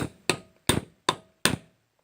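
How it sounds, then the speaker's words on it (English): Five sharp, hard strikes of a ball peen hammer on wood, evenly spaced about every third of a second, close and loud with silence between, while making a wooden knife. "I'm just using a ball peen hammer."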